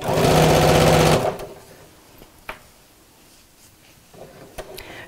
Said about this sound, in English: And again, sew on top of that same line.